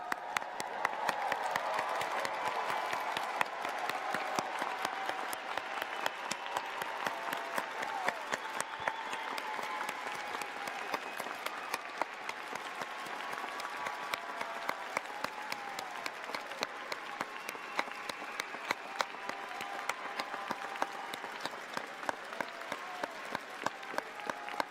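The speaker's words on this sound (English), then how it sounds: "join me in giving a huge round of applause to the Information School" A large crowd applauds the Information School Class of 2022 at convocation, dense sustained clapping filling the hall evenly from start to finish, with faint cheers mixed in.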